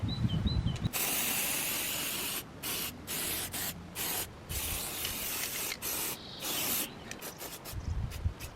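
Aerosol spray paint hisses in repeated short bursts and longer passes while touching up patches on a custom off-road buggy built from a motorbike, close and loud with brief gaps between sprays.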